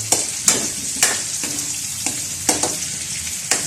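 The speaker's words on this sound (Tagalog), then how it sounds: "Kasi kailangan iprito para mas masarap." Carrots fry in a pan for beef caldereta under a steady, bright sizzle, broken by regular scraping strokes of a spatula about every half second, close and clear.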